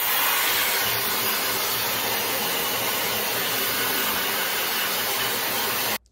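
A Shark FlexStyle hair dryer blows hair dry with a loud, steady whooshing roar close by, holding constant before cutting off abruptly near the end, with no talking.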